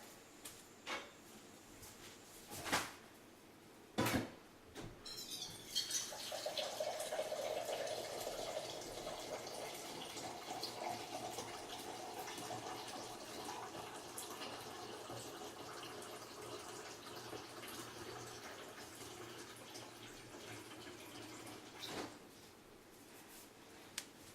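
After a couple of sharp knocks, water pours steadily into a container for over fifteen seconds, a continuous close rushing that ends with a small clunk.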